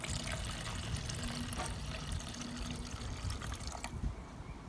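Mineral spirits poured into paint for mixing, a faint steady liquid stream trickling for a few seconds, then stopping.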